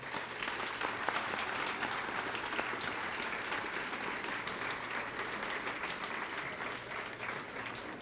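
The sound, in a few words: applause for school staff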